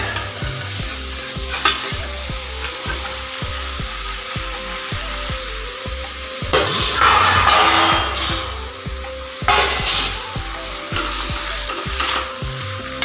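Local chicken and potatoes fry in a pan while a spatula scrapes and knocks in a steady close rhythm, and the sizzle swells into loud hissing bursts twice.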